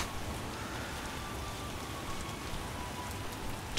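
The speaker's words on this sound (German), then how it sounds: "Das ist echt ordentlicher Regen" Steady heavy rain patters without a break in The Witcher video game, a dense, even hiss of drops on surfaces that stays constant and fairly loud throughout.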